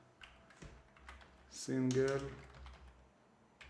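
Fingers tap on a computer keyboard at a work desk in a steady run of light, close clicks, while a voice speaks briefly over the typing.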